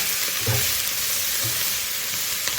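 Mushrooms stir-fried in butter in a pan make a steady close sizzle and frying hiss, with a few soft stirring knocks and scrapes standing out and no voices.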